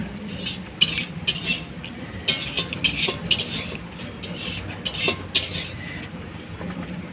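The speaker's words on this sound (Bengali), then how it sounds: "দেখুন এবারে মাছে নুন হলুদ মাখিয়ে নেবো" Cut, washed shol (snakehead) fish being rubbed by hand with salt and turmeric in a metal bowl, with steady close scraping and repeated light clinks of metal.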